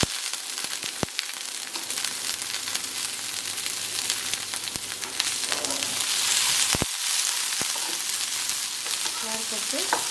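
Cowpeas (lobia) frying in a pan, cooked in a home kitchen: a steady, soft sizzle with occasional stirring clicks and scrapes, fairly quiet and close, with no one talking.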